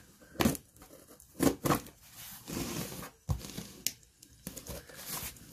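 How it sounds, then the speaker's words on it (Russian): Scissors snipping and tearing into a cardboard postal box during an unboxing, a string of close, crackling cuts and rips with crinkling between them, no talk. "Поэтому будем резать ножницей."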